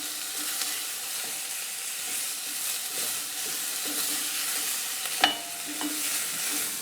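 Vegetables sauté in a pan for a one-pot quinoa and creamed beef meal, a steady close sizzle with light stirring scrapes and one sharp utensil clink near the end, no talk.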